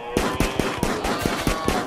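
Gunfire in the video game RimWorld during a hunt, a rapid series of about eight sharp shots in quick, slightly uneven succession, loud and close with no talking over them.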